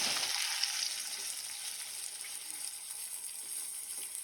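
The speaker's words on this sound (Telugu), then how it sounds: "మంచిగా రోస్ట్ అవ్వాలన్నమాట చికెన్ మంచి రోస్ట్ అవ్వాలి ఈ ఆయిల్లో మంచి రోస్ట్ అవ్వాలి" Chicken pieces frying in hot oil, a steady dense sizzle throughout at close range with no talk over it.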